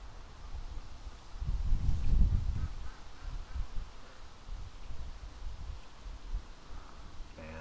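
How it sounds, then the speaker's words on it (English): Ducks on a creek give low, rough quacks and honks, clustered in one louder burst early on and then scattered softer calls over a faint background hiss. "A lot of ducks in the creek, guys."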